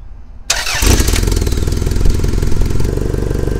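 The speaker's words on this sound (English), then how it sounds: "let me show you how the engine sounds." A 1995 Toyota Camry engine cranks after a short silence, catches with a slight delay and settles into a loud, steady idle close by, with no talk.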